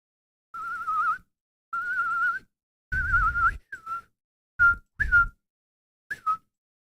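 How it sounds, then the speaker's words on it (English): A person whistles a series of short mid-pitched notes, first three longer steady tones, then several brief chirping blips, each separated by silence, close and clear. "Wait, why can I not whistle?"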